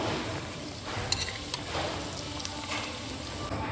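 Potatoes fried reddish-brown in oil sizzle steadily while being lifted out of the pan, with a few light metallic utensil clinks over the constant hiss.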